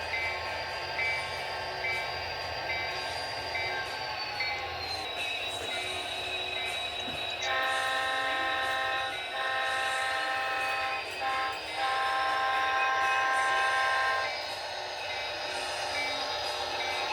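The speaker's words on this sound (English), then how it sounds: "NS 5301 is going to go over and pick up 3 loaded NS open hoppers, 3-bay that is, at Garrett Mine" Norfolk Southern freight train NS 5301 rumbles past steadily and loudly, with several sustained horn blasts in the middle section and a continuous rolling rail roar throughout.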